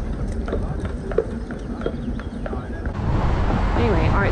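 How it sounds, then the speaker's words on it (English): Carriage horses' hooves clip-clopping on a hot Charleston street, a faint irregular patter beneath wind and street noise that grows busier toward the end. "when it's hot, these horses work hard."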